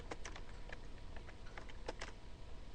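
Quiet keyboard typing during a radio show: a run of light, uneven key clicks with short pauses, close and faint, with no voices.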